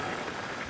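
Light rain falls during a scooter ride near Neyveli, a steady, even hiss of drops with no other sounds standing out.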